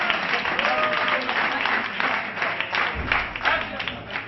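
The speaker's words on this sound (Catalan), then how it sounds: "un fort aplaudiment per ells quatre" A hall audience gives loud, sustained applause for four hosts at a local gathering, dense clapping with crowd noise, continuous throughout and close.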